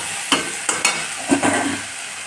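Ginger, green chili paste, and ground cumin and coriander frying in a pan, a steady close sizzle broken by several sharp scrapes and clacks of a spatula stirring the spices.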